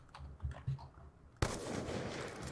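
A single sharp gunshot from the Black Ops II video game cuts in partway through, followed by a dense, noisy burst of in-game action after a short stretch of quieter clicking.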